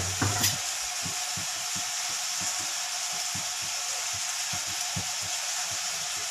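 Mutton with spices is stirred in a pot, a steady sizzling hiss under repeated soft scraping strokes, following a brief clatter at the start.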